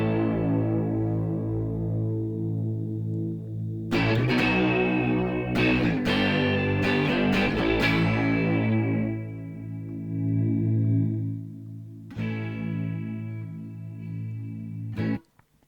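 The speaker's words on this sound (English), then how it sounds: "In this case, you hear more distortion going on." Guitar through a Scirocco effects unit with increased input giving heavier distortion: sustained, buzzing chords ring out and decay, struck again several times with sharp attacks across a long, steady passage.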